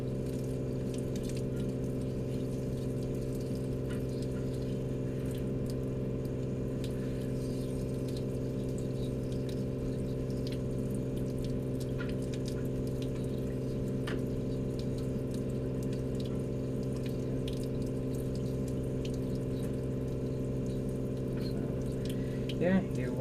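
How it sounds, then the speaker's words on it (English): Laboratory glassware for a PIP-on-a-chip cleaning procedure being rinsed with copious running water: a steady, continuous flow over a constant low mechanical hum, close and unbroken throughout. "you wash it with copious amounts of water"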